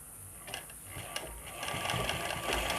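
A sewing machine stitches stretched elastic onto fabric, its quick mechanical whir and needle clatter running continuously at low level and growing slightly busier toward the end.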